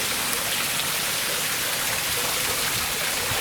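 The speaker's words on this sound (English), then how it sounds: "And a little water fountain." A small garden water fountain beside a gazebo at a Summerlin, Nevada home gives off a steady, close hiss of splashing, falling water, continuous and even, with no voices.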